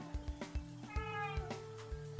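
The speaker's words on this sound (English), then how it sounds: "Now you know my cat is meowing." A hungry cat meows several times in a short series of close, clear calls spaced about half a second apart, alone with no talking.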